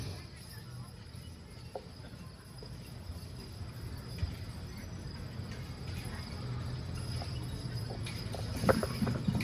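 Draft horse hooves clip-clop over a bridge at a Wyoming county fair driving class, faint and distant, with scattered hoof strikes over outdoor background noise.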